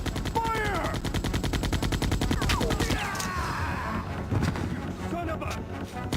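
Rapid automatic gunfire in Resident Evil, a dense burst of repeated shots running steadily for about three seconds, then thinning out as shouting voices and other game sounds take over.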